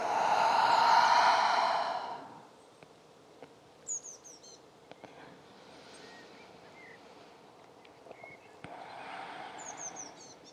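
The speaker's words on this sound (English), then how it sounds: "Maybe you can hear the birds in the background here where I am." Small birds chirp and sing faintly in the background outdoors in intermittent high twitters, with a loud breathy exhale at the start.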